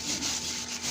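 A sponge wipes across a surface to clear a bird-dropping stain after an acid treatment, making a close, steady rubbing scrape with slight rhythmic swells over about a second.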